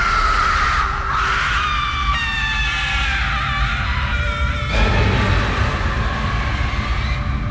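Screams echo through an old haunted mansion, loud high wavering cries layered over a dense dramatic soundtrack that fills the whole stretch.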